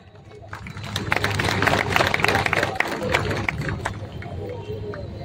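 Scattered clapping and crowd noise at a Matang community rights rally in Dasara Chowk, Kolhapur, swelling over the first two seconds, then holding steady with voices mixed in.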